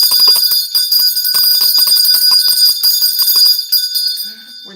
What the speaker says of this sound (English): When you hear that bell